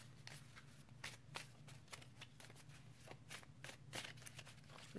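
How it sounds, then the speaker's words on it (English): A small homemade tarot deck shuffled by hand, with papery riffling bursts and soft card slaps repeating in an irregular rhythm over about five seconds, close and fairly quiet, with no talking. "This is a hard deck to shuffle because it's a little homemade deck."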